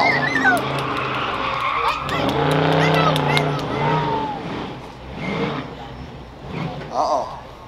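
A car doing a burnout at a Moparty 2020 burnout contest: a loud, rumbling engine and screeching tires roar steadily, rising and falling, while an announcer and the crowd talk over it.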